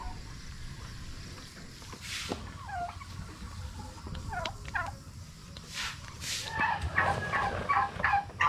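Turkeys gobbling in bursts, near and fairly loud, with repeated warbling calls building toward the end over faint outdoor background noise.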